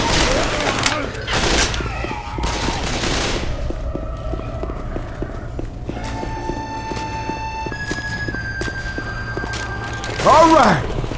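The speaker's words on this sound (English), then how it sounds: "You wanna watch me shooting?" Gunfire in the Left 4 Dead 2 video game, bursts of rapid shots early on followed by scattered single shots and clattering, with game tones and effects mixed in and a voice talking over parts.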